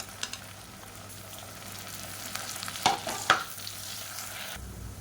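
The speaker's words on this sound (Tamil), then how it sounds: "இப்போ வெங்காயம் நல்லா வதங்கிட்டு இருக்கு." Sliced onions and mint frying in oil for chicken biryani, a steady close sizzle with a couple of sharp stirring scrapes of the spoon against the pan partway through.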